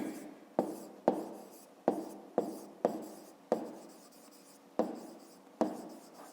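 A pen writes a word by hand on paper during a fifth-grade math exercise, making a series of sharp taps and short scratchy strokes in an irregular rhythm, close and alone without talk.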